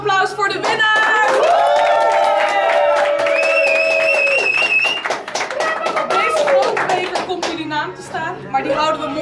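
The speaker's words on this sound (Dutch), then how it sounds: "Mag ik nog één groot applaus voor de winnaar?" People at a FIFA gaming tournament clap for the winner, scattered, uneven claps mixed with cheering and tonal music or whistling, with voices talking over parts of it.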